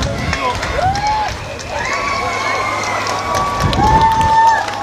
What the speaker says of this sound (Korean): 다시 한번 큰 하나의 박수 부탁드리겠습니다.